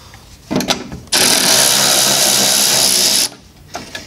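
A power drill runs up and spins steadily for about two seconds, backing two silver screws out of a small plastic block on a 4th gen 4Runner's front end, with brief tool clatter before and after; loud and close.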